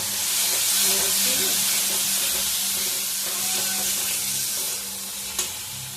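Whole garam masala and tomato sizzle in a hot pan of oil, a steady close hiss that eases slightly toward the end, with faint stirring clinks.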